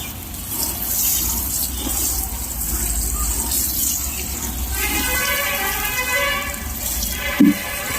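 Water pours steadily into a garden bed packed with soil and kitchen waste, a continuous rushing splash close by, with a brief louder thump near the end.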